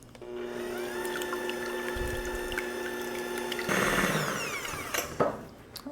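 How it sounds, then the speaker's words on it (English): Electric hand mixer whirring steadily as it beats eggs until frothy for popovers, a sustained motor whine that shifts pitch partway through, with clatter of beaters against the bowl near the end. "So I'm using a hand mixer, and the first thing I want to do is just beat these eggs until they're frothy."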